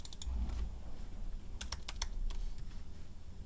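Computer keyboard typing comes in a few quick bursts of sharp clicking keystrokes, close and clear over a low background hum, with no talking.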